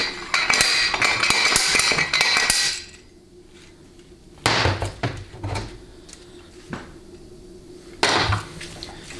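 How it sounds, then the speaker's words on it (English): Vintage Old Forge slide hammer pulling a bushing out of a 700R4 transmission, giving a rapid series of sharp metallic clanks, then a pause and two more separate bursts of banging and scraping metal close by. "Slide hammer itself is made by a company called Old Forge"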